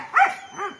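A dog at a free adoption in Cuttack gives a short whimpering yelp followed by a softer second whine, close and alone.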